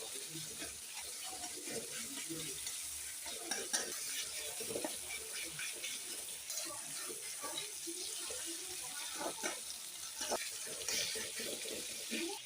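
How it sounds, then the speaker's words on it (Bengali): Food being stirred in a cooking pot with salt added, giving soft scraping and wet mixing sounds over a faint sizzle. "নেড়ে দিলাম ভালো করে।"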